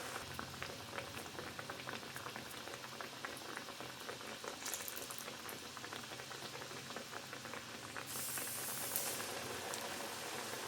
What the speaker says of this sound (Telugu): ఎత్తుకుని ఆయిల్ వేసుకుని డీప్ ఫ్రై చేసుకోవాలి